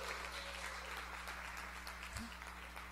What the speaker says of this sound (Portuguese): Aplauda Jesus, não estava combinado.